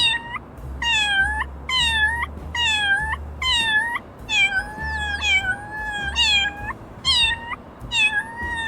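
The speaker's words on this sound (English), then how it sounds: "all you're going to want to do is you just want to meow 10 times in a row" A cartoon kitten in the video game Little Kitty Big City meows over and over, about a dozen quick, bright, clipped meows in a steady rhythm, close and clear with game ambience underneath.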